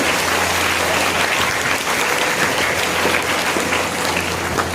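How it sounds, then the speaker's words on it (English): Audience applause at an Independence Day celebration with an inter-house patriotic singing competition, a loud, continuous crowd clapping that fills the whole stretch without a break. "So we really give clap for all the people, those who have been part of the event"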